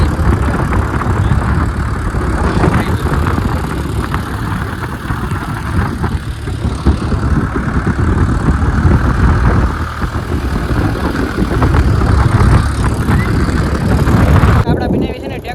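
A tractor engine chugs loudly and continuously close by, a steady low rumble with voices talking under it.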